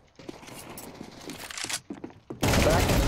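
Rapid gunshots striking a wall in Counter-Strike 2, a crackling, crunchy spatter of impacts that ends in a loud, sustained burst.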